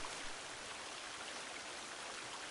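Flowing water in The Forest video game, a steady dense rushing hiss like a stream or waterfall, constant and unbroken with no voices.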